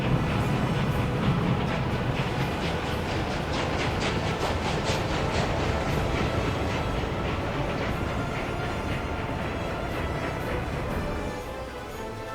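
Trains running in the Workers and Resources city-building game, a steady dense rolling rumble with rhythmic clickety-clack of wheels over rail joints, continuous and fairly loud, easing slightly near the end.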